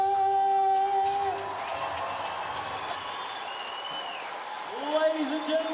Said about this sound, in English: a huge round of applause to Ethan Hall from Hallmark Music Studios